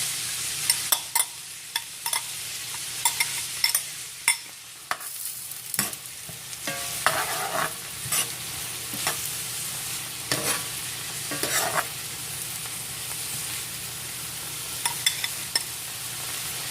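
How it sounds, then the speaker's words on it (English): Chopped seasoning sautéing in butter over medium-high heat for a shrimp and crabmeat stuffed chicken dressing, a steady close sizzle broken by frequent scraping stirs and clicks of a utensil against the pan. "you want to add your chopped seasoning. And saute that in the butter."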